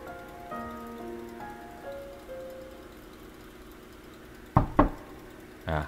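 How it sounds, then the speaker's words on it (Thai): A few sharp knocks on a wooden door in the game Octopath Traveler: Champions of the Continent, two quick loud raps followed by a third, over soft rain-like ambience and fading musical tones. "มีการเคาะก้องแกงก้องแกง"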